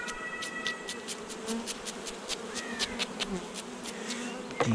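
Honey bees buzz around an open hive during an inspection, a close, continuous droning hum with individual bees whining past, faint tapping clicks scattered through it.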